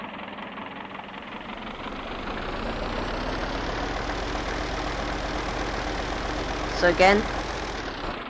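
A Ferguson tractor engine runs steadily while a small cultivator is lowered, a continuous droning rumble that swells slightly, with a brief squeaky burst near the end and a voice speaking briefly.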